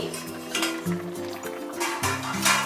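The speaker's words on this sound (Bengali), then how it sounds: "আমি ঢাকাটা খুলছি" A metal lid lifted off a pot of simmering bhetki fish curry, giving a few light clinks and scrapes of metal against metal over a faint bubbling background.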